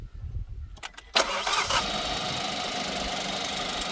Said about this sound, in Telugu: ఒకసారి ఇంజిన్ స్టార్ట్ చేయమా.